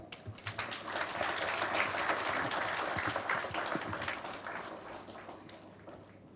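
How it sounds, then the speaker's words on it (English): An audience at an international seminar on ethics at a university applauds the guest speaker, a dense, even patter of many hands that swells early and then slowly fades over several seconds. "Let's have a huge round of applause"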